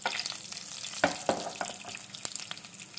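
Cumin and coriander seeds fry in a few spoons of oil for a Mangalore cucumber chutney: a faint, soft sizzle broken by several light clicks and taps from a spoon.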